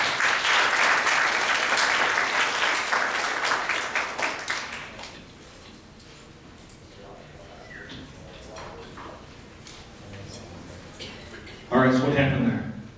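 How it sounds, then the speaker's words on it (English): Audience applause at a youth leadership conference talk, a burst of many hands clapping that fades out over about five seconds, followed by a quiet room with scattered shuffling and someone speaking near the end. "A round of applause."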